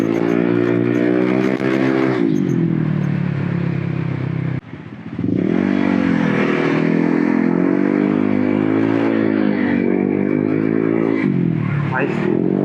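A Honda ADV 160 scooter runs after a torque drive bearing replacement, its engine droning loudly and revving up and down, with a short dip midway before climbing again.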